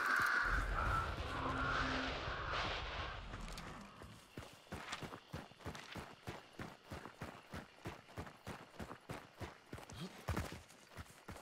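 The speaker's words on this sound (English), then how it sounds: "Oh god, birds. Oh god, birds!" Crows in the game Hunt: Showdown, a burst of loud flapping and cawing up close that fades after a few seconds into a steady rhythm of running footsteps.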